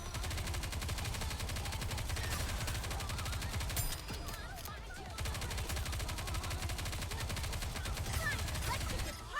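Dense rapid gunfire from the video game Goddess of Victory rattles continuously in thick bursts, with a brief lull midway, under game sound effects and faint voices.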